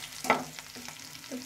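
Ginger frying in ghee in a pan for curd poha, a soft sizzle with a few stirring scrapes and clinks, close and fairly quiet.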